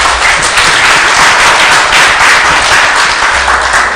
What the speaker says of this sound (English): Access Team Rwanda deserves a round of applause